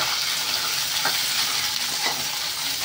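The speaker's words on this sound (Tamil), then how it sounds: "இப்போ வெங்காயம் சேர்த்துக்கலாம்" Onions sautéing in a pan with goat blood fry, a steady close sizzle broken by a few soft stirring scrapes near the one- and two-second marks, with no voices.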